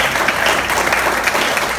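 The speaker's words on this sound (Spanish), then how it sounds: "dale un fuerte aplauso al Señor" A church congregation claps loudly and continuously during a sermon, a thick, steady wall of applause.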